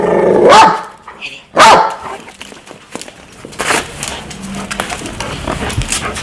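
Two loud, sharp dog barks close by, followed by quieter rustling and muffled sounds with a voice in the background.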